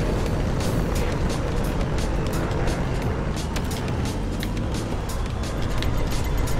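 A turbo boost fires in the combat racing game GRIP, a loud, steady roaring rush of engine and wind noise that holds for several seconds with small bursts layered on top.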